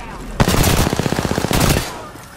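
Machine gun fire in Apex Legends rattles close and loud in two rapid bursts, a long stream of evenly spaced shots and then a shorter volley, with a player's voice heard around them.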